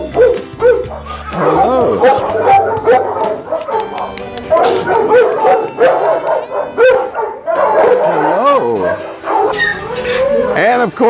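Dogs at an animal shelter bark, yip and whimper almost nonstop, several close and loud with overlapping calls echoing in the kennels, while a person briefly greets them.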